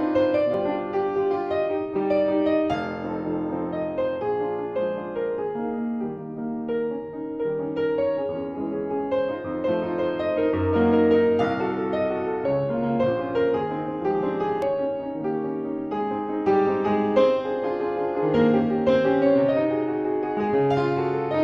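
Blüthner grand piano rendered through the VSL Synchron sample library's surround mic preset, a flowing polyphonic passage with sustained chords and melody, moderately loud and spacious, with no voices.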